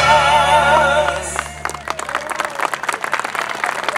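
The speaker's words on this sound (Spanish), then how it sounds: "Bien fuerte tiene que sonar el aplauso para la agrupación Chajarí Danzas." Audience applause for the Chajarí Danzas dance group breaks out as folk music fades, a ragged burst of clapping that carries on steadily.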